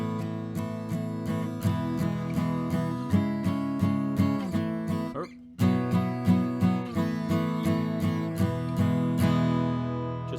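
An acoustic guitar strums the chord pattern for a song in steady repeated strokes, with a brief break near the middle before the pattern resumes. The ringing chords come through clearly, with no voices.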